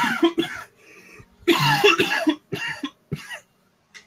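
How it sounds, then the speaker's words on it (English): A person coughs repeatedly in a series of harsh, close bursts with short pauses between them, and a faint final cough trails off at the end. "I've been coughing all day."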